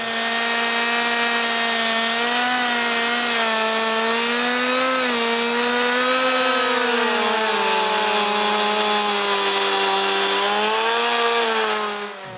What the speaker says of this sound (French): Ensuite, je peux partir de la scie puis commencer à couper.